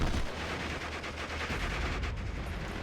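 Steady gunfire in Steel Division: Normandy 44, a dense wash of distant small-arms and machine-gun shots from a Recce squad and the surrounding battle, continuous and fairly even in level throughout.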